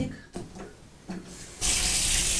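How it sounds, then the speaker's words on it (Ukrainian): Tap water pours into a basin in a village home where rusty water comes from the taps, starting as short uneven splashes and then settling into a loud, steady gushing stream. "Для того, щоб попрати дитячі речі, я повинна набрати води в тазик."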